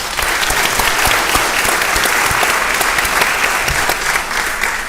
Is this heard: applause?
yes